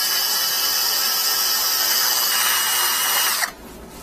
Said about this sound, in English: I didn't have any good rasps or burrs to put into that Dremel, so I end up using this.